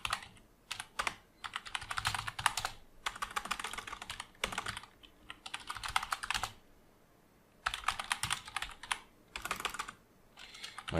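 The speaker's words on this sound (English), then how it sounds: "my typing is really bad" Rapid clattering keystrokes on a computer keyboard while writing Kotlin code, coming in bursts of fast typing separated by brief pauses, close and fairly quiet with no talking.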